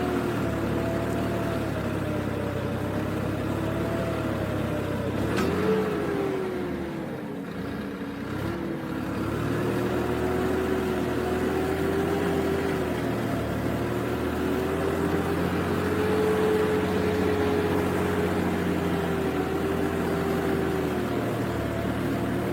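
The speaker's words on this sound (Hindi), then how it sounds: "ज़मीन थोड़ी गिल्ली है और ट्रैक्टर उस हिसाब से खींचने में थोड़ा सा जोर लग रहा है" Tractor ploughing a damp field at an ashram farm, its engine droning steadily and close, pitch dipping briefly as it strains under load, then holding a continuous labouring rumble with no talk.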